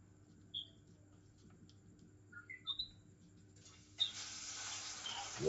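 Chicken wrapped in bacon and cornflakes goes into a pot of hot oil. A few small chirpy squeaks come first, then a sudden steady sizzle of frying rises and keeps going.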